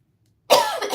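A single sharp cough bursts out after half a second of silence, loud and close, trailing off into a rough exhale.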